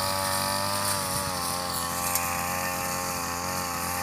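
A backpack brush cutter cuts grass under a hot sun, its small engine holding a loud, continuous high whine with a steady buzzing drone throughout, close by and with no talk.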